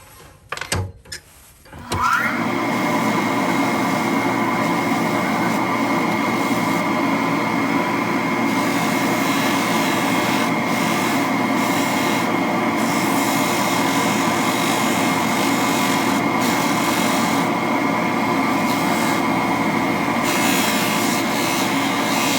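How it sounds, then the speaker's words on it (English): Buffing wheel spinning on a homemade Cocobolo mandrel with an M2 taper while polishing a miniature spoon pen clip, a loud continuous whirring drone that starts abruptly after a few bumps and holds steady, close by. "and my buffing wheel"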